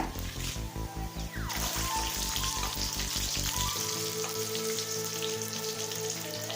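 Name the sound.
sautéing chillies, garlic and curry leaves in oil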